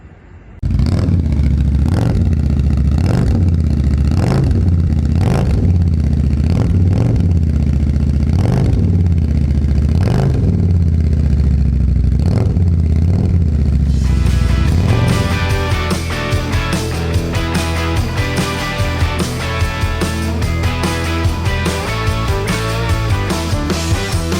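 Motorcycle engines at Daytona Bike Week in Florida, loud and close, with repeated revving surges that give way to a dense, continuous roar of bikes riding past.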